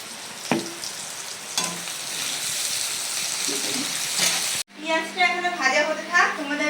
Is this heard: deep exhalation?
no